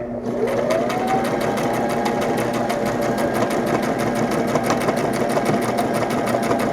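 A sewing machine stitching a costume glove runs steadily up close, with a fast, even needle clatter that continues without pause for several seconds.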